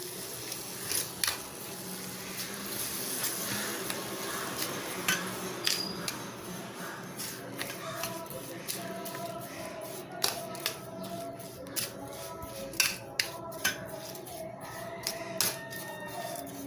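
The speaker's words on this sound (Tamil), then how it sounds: "இப்போ கொஞ்சமாக சூடான பால் ஊற்றி கொஞ்சம் கொஞ்சமாக நல்லா கலந்து விட்டுக்கலாம்" Rava laddu mixture, semolina moistened with hot milk, is stirred and pressed in a metal pan, producing soft scraping and irregular clinking clicks of spoon against vessel, fairly close and quiet.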